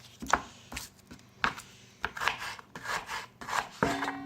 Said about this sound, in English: I'm going to cut up an onion